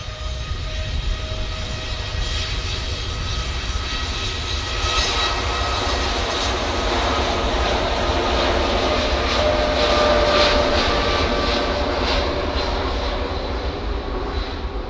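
A TUI jet airliner rolls down the runway for takeoff at Manchester Airport, its engines giving a steady, powerful roar with a thin whine that builds gradually over a long, continuous stretch.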